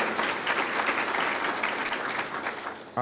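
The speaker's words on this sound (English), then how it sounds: "Round of applause." Audience at a breakfast forum applauding, a steady, full round of clapping lasting about three seconds, close and fairly loud with no one speaking over it.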